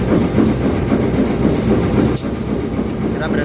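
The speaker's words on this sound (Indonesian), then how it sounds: "di stasiun Telawa ini kita ketemu sama kereta api Matarmaja" The Matarmaja train rolls past at Telawa station, a loud, close rumble with rhythmic clickety-clack of wheels on rail joints and a brief sharp hiss near the middle, no talk over it.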